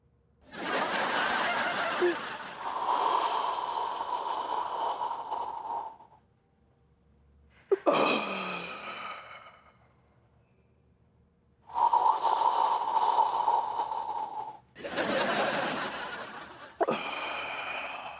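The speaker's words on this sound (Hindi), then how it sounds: "चाचा जी प्लीज ये सुड़क सुड़क की आवाज थोड़ा कम कीजिए ना" Loud, drawn-out slurps of hot herbal kadha come in several separate noisy bursts, close and harsh, with quiet gaps between them.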